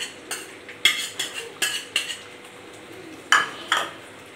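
Capsicum and onion being sautéed in a kadai for kadai paneer, heard as a string of sharp spatula scrapes and clinks against the pan at an irregular pace, close and fairly soft, with no talking.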